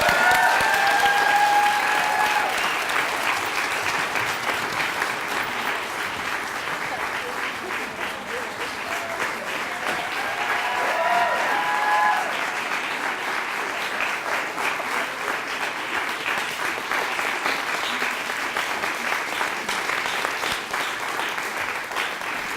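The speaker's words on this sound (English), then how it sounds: "how about one more applause for our storytellers?" A theater audience gives sustained, loud applause for the storytellers at a live show, continuous dense clapping from many people throughout, with a few faint voices in the mix.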